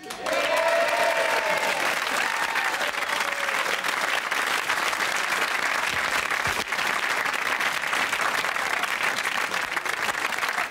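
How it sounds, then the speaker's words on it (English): A studio audience claps and applauds loudly and steadily, with a few cheers mixed into the dense, continuous ovation. "A big round of applause for Alan Davison"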